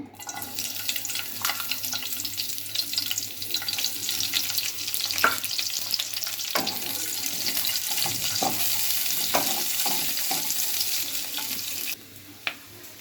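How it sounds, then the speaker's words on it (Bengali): Steady sizzling of onions frying in hot oil, continuous and close, with occasional clicks and scrapes of stirring. "পেঁয়াজ ভাজা হয়ে গেছে, একটু লাল হলেই আমরা সবজিগুলো দিয়ে দেব"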